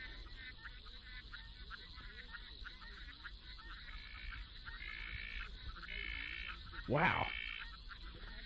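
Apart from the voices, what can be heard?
frogs croaking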